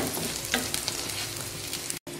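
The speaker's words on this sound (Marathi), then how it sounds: "मी ना हे मटरचे ताजे सोललेले दाणे घेतलेत, हे घालू. चला आता याला आहे ना पुन्हा परतून घेऊ." Freshly shelled green peas are stir-fried in oily dhaba-style gravy in a pan, giving a close, continuous sizzle with scraping stir strokes and no talking.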